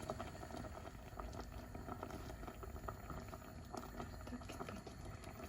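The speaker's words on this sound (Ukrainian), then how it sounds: "кипить смородинка" Steady bubbling and simmering of blackcurrants boiling in a pot on the stove over low heat, a continuous low seething with small pops, fairly quiet and without voices.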